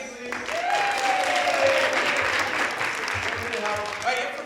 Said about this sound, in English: Everyone clap for 8, please.